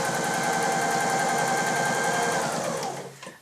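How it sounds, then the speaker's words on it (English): A mechanical sewing machine running steadily on a straight stitch under foot-pedal control, a fast even whirring hum that slows and stops at the end. "I'll put my foot on the foot pedal and stitch the stitch out"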